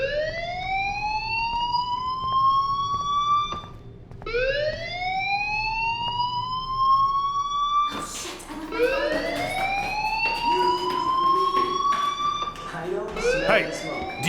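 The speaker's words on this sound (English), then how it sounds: "Hey, do you hear that fire alarm? That means you should be outside." A school fire alarm sounds in the video game Life Is Strange, a loud rising siren-like whoop that repeats, pauses briefly, then keeps cycling while other alarm tones overlap and muffled speech sits underneath.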